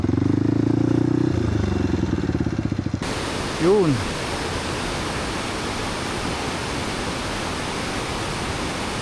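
River water rushing steadily at the Tarlac Diversion Dam, a broad, constant roar that begins abruptly after an engine-like hum cuts off, with a short voice-like sound partway through.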